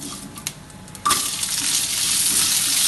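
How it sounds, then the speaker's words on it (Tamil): Onions hit hot oil already holding mustard seeds and broken dried chillies, starting with a few light clicks, then a sudden loud burst of sizzling that settles into a steady close frying hiss. "அந்த காஞ்ச மிளகாய் வதங்கின உடனே இந்த வெங்காயத்தை போட்டுக்கும்."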